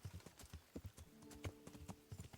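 Horse hooves clip-clop in the medieval video game Kingdom Come: Deliverance, a quick run of close, distinct footfalls over about two seconds, with a low steady tone sounding beneath the later steps.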